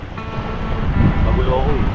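Strong wind gusts roar across the microphone beside open water, a continuous loud buffeting with a faint whistling tone rising and falling through it.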